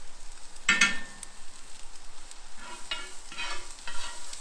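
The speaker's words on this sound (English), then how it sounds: "So we're going to start frying off our onions." Onions fry in a pan, soft sizzling under the scrape and knock of a stirring spoon, in close bursts with quieter gaps between them.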